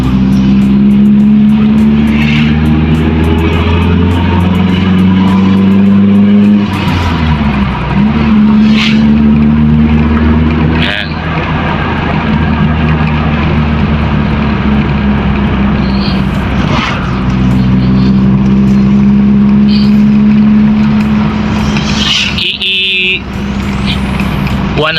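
The 2E engine of a big-body Toyota Corolla that starts hard even when warm idles with a steady low hum and rises in several revving swells. Someone talks throughout, close to the engine bay.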